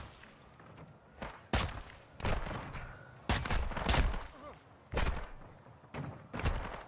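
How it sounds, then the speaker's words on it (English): Bursts of gunfire in Call of Duty: Modern Warfare II, several loud, close volleys and single shots spread irregularly over the clip with short gaps between them, set against a low rumbling background. "Where am I being shot from?"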